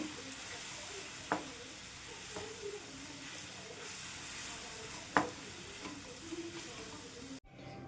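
Jaggery melting in a pan with half a cup of water, stirred steadily while it sizzles softly, with a few sharper scraping clinks of the spoon against the pan and a brief cut at the end.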